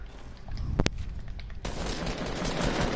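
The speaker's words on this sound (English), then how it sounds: "Getting shot at from a direction." Gunfire in a shooter video game: a pair of sharp, close shots, then a sustained, noisy barrage of rapid fire that fills the rest of the moment. No one speaks.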